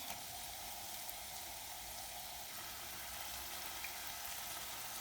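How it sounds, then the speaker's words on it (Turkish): Spinach frying in a pan with onion and minced meat, a soft, even sizzle with a hissing wash that stays faint and unchanging, no voices present. "Yavaş yavaş ıspanağımı da ilave ediyorum arkadaşlar."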